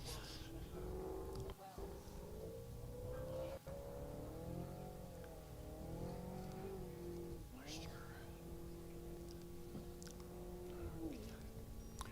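A race car makes a run at an ECTA land-speed racing event, its engine a steady, sustained drone with rising and shifting pitch, loud throughout, with a person talking over it.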